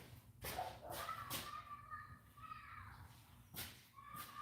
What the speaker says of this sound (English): I'm sure you'll hear him. He's steady barking.